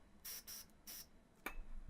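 An airbrush sprays Agrax Earthshade paint at low pressure in short hissing bursts: three or four brief, faint puffs separated by pauses, close and quiet.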